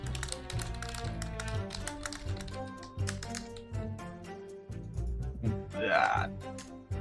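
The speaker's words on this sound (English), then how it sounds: "I assume Sleepy's still typing, right?" Rapid, close clicking of typing on a computer keyboard, irregular bursts of keystrokes running throughout, with faint talk and a brief voice in the background.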